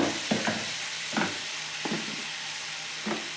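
Chicken pieces fry with spices and turmeric in a pan on low flame, a steady close sizzle with several soft stirring scrapes spaced through it.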